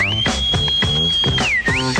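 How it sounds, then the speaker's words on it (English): A long sliding wolf-whistle-like tone holds steady and then dips, playing loudly over a thumping funk-style music bed on a 1981 KFI Los Angeles radio broadcast. "don't forget to give out a little whistle"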